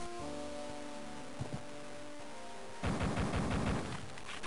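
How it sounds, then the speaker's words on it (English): In Duke Nukem 3D, a turret is shot out: a couple of brief sharp shots over a low droning ambience, then a sudden loud, sustained crackling blast that carries to the end. "Jump up here into the ventilation shaft and blow out the turret down at the end"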